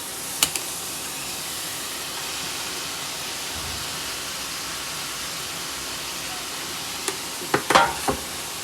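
Onions and spices frying in a pan, a steady soft sizzle running throughout, with a few sharp clinks and stirring knocks near the start and end.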